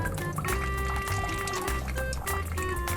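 Warm liquid pouring down onto someone's feet, a steady close splashing stream running continuously with a bright trickling texture and a faint tonal hum underneath.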